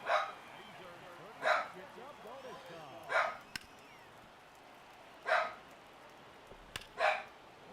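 A pet dog named Porfy barks repeatedly indoors in a home studio, five or so evenly spaced loud barks at moderate distance, with faint background sound between them.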